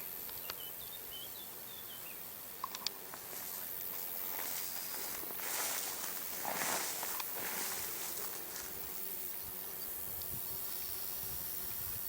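Bees buzzing around flowering honey plants in open steppe, a soft continuous outdoor drone with faint wing hum passing close, light insect chirps and a couple of small ticks.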